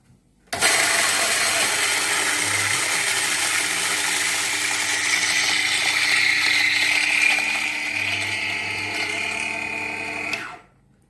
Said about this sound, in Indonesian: Nah, ini kita langsung grinder saja.